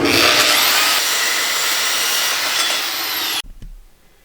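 A mock-up of a coilover shock being cut with a power saw in a small workshop, a steady loud grinding-whine that runs for about three and a half seconds, then stops abruptly and leaves a brief fading rattle.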